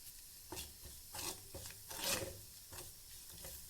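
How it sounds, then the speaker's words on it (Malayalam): Ground pepper, turmeric, chili and coriander powders roast in a pan, giving a soft dry scraping and stirring sound in short irregular strokes, close and fairly quiet. "ഇനി ആ പൊടികളൊക്കെ ഒന്ന് നന്നായിട്ട് റോസ്റ്റായിട്ട് വരട്ടെ"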